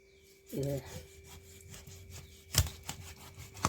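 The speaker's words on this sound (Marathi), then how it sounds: "किती पातळ कापं काढली जातात बघा" A knife slices thin pieces of fish in rough, scraping strokes with a sharp knock partway through, close up, with a brief voice early on.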